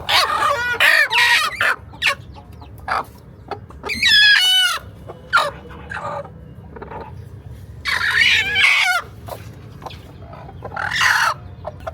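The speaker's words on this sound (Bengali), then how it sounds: "তা এই হলো আমাদের সব মুরগি" Hens on a small farm give bursts of clucking and squawking, with a rooster crowing once in the middle, the calls coming in uneven clusters against a quiet background.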